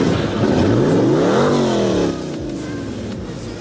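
A De Tomaso Pantera starting up in Roblox Driving Empire, a loud engine rev sweeping up to a peak and falling back. It settles into a steadier lower drone near the end.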